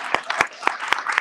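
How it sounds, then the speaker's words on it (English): A town hall audience in Oakland claps for a council member, a brief patter of a few separate claps in quick succession, fairly close and not very full. "can we give a round of applause to your council member?"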